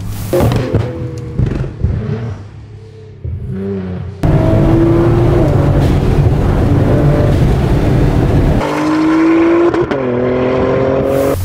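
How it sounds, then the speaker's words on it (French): A Nissan GT-R engine revs hard and loud, with sharp dump valve bursts as the throttle lifts, then climbs again in sustained high-pitched roars. "les décharges des dump valves qui font un bruit incroyable à chaque fois que vous lâchez l'accélérateur"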